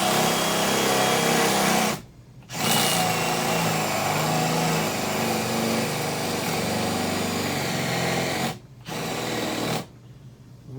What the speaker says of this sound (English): This drill bit must be dark, dull, or this body wood is hard as a rock